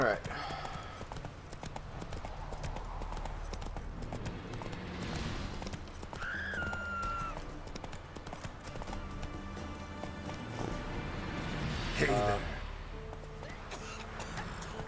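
Horse hooves clip-clopping at a gallop in The Witcher 3, a steady rhythmic beat running through the whole stretch under game music and effects, with a brief whinny-like call and a voice speaking.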